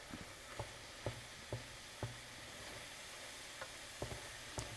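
Ground beef with bacon fat and flour sizzling steadily in a pan while a utensil stirs it, with soft regular scraping taps roughly every half second over the constant frying hiss, no voices.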